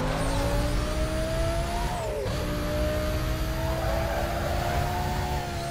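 A supercar in a Need for Speed racing game roars at high speed with a steady, droning engine note that briefly dips and climbs again, loud and continuous without talking.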